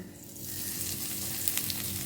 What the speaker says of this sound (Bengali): এবার হিং ফোড়ন দেবো, একটু আন্দাজ মতন হিংটা দিয়ে দেবো।